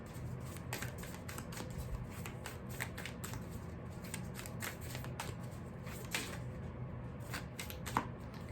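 Angels and Ancestors oracle cards being drawn from a deck, rapid light riffling and flicking clicks that run almost continuously, close and soft with no talking.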